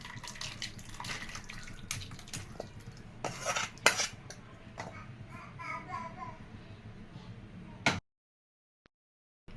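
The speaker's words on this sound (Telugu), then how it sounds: "వేసుకొని బౌల్లోకి తీసుకుందాము" A metal ladle clinks and scrapes against a pot and bowl while Uttarandhra-style mutton pulusu curry is served, with scattered bright clatters and soft liquid sloshing. The sounds end abruptly in near silence.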